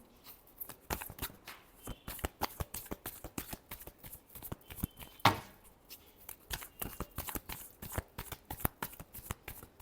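Tarot cards shuffled by hand in a long run of crisp, rapid riffling slaps, steady and close, with one louder snap near the middle and no talking.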